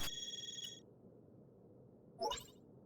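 A phone ringtone in the Trails Through Daybreak video game sounds as a bright electronic trill, then stops, and a short chime follows after a quiet gap.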